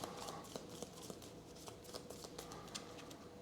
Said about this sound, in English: I'm pretty sure I shuffled these, but let's do it again once more.